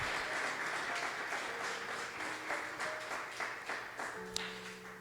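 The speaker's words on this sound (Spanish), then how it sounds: "Denle un aplauso al Señor, mis hermanos" A church congregation applauds together after a closing prayer, a steady wash of many hands clapping that holds at moderate loudness throughout with little variation.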